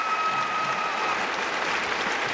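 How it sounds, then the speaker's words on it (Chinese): A live arena crowd screams and cheers at the 2014 Four Continents figure skating gala in Taipei, a loud, steady roar of cheering and applause lasting the whole stretch with no pause. "再配合现场的尖叫跟欢呼声"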